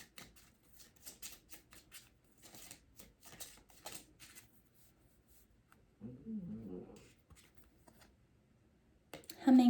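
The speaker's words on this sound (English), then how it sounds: "I'll pull one of these little nature nurture" Oracle cards are shuffled and pulled from a deck, giving a run of quick soft riffling flicks and taps, close and fairly quiet, with a brief murmur of speech partway through.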